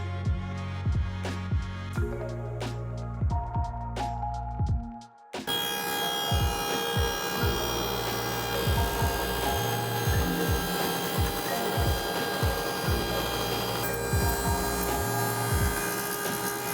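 Hand plane working wood while cleaning up a mortise for an angled through-tenon bedside table: close, rasping repeated strokes with scraping, rubbing texture, continuing steadily after a brief pause.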